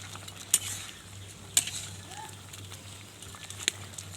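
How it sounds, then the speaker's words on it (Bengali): Fried puti fish with tomato is stirred in a pan, quiet low sizzling broken by three sharp metallic scrapes of a utensil, with a low steady hum underneath. "ভাজা পুঁটি মাছগুলো দিয়ে দিলাম। দিয়ে এখন আমি এটা নেড়ে দিব।"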